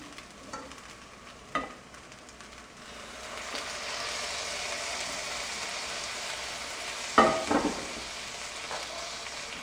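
Pork pieces sizzle in a pan as they are mixed with morocho, a soft continuous frying hiss with a few sharp clacks of a utensil against the pan.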